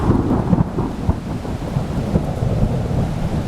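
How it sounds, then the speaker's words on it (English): A thunderstorm pours steady heavy rain while low rumbling thunder rolls continuously through the scene, dense and close without any voices. "the day of the big thunder and lightning storm"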